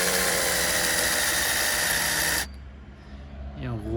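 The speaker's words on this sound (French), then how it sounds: "vous allez percer un petit trou comme ça, en biais. Je continue de percer" A small angled hole is drilled during work on a new rear axle setup, the drill whining loudly and steadily for over two seconds and then stopping abruptly, leaving quiet room tone and a brief voice.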